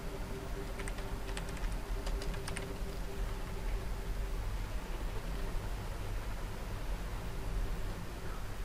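Keys clatter on a computer keyboard as someone types a form entry, a quick burst of light clicks over a steady low background hum, close and fairly quiet with no voices.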